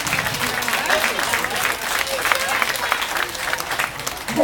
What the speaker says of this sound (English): And everyone will give a big round of applause.